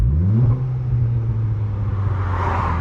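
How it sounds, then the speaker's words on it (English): A Stage 1 Polo GTI engine with the rev limiter removed revs hard and holds a high, droning pitch, rumbling loudly and continuously without cutting out. "they've also removed the rev limiter now, so if I rev it here"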